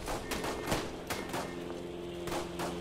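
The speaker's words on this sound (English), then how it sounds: "Dropped some mortar fire on it now." Battle noise in the WWI video game Tannenberg with mortar fire, a dense rumbling stream of distant shots and muffled thumps, several sharper cracks standing out, no voices.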